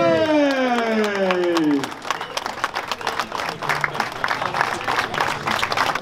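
A crowd at the Punta Bagna Courchevel 2022 prize-giving breaks into steady applause for a family, starting just after a sustained voiced call and carrying on as a dense, fairly close clatter of many hands.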